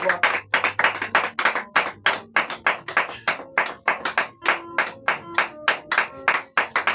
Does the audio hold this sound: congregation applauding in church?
yes